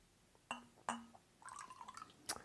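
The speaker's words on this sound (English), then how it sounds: "So here's my little cup of water, and here's my apple cider vinegar. I'm going to pour about a tablespoon in." Apple cider vinegar pours into a small cup of water with a short trickling splash, preceded by two sharp glass clinks as the bottle and cup touch and followed by another clink, close and quiet.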